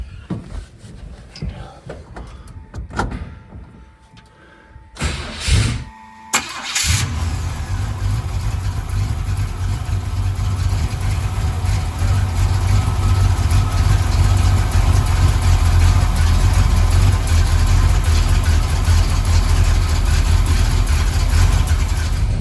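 A truck engine, just refitted with a new distributor gear, cranks and fires partway through, then settles into a loud, steady idle that runs to the end.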